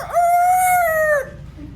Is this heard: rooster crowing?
yes